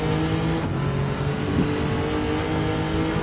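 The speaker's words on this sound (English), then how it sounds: "it definitely sounds like a V8" A deep, rumbling V8 engine in Gran Turismo 7 idles and revs steadily at close range, a throaty growl holding for a few seconds without speech.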